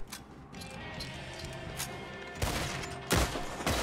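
Gunfire in the Western video game Red Dead Redemption 2 gives a few faint shots, then two loud close shots that crack out sharply over the game's background ambience.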